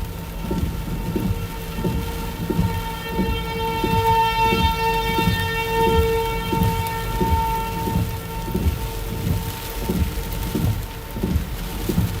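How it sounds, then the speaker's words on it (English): Distant tornado warning sirens wail in long steady tones over heavy rain and rumbling thunder in Oklahoma, with a rhythmic thumping throughout and no voices. "There goes the sirens"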